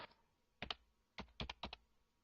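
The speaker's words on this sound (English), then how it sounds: "type a password for the user" Password typed on a computer keyboard: a short burst of about six crisp key taps in quick clusters, close and fairly quiet, with no talking.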